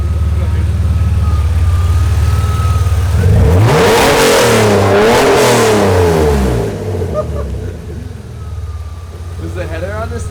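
BMW M3 engine with long tube headers dumped open, a loud close rev sweeping up and back down over a rough idle, blasting for several seconds before settling back to a lumpy idle; people talk nearby.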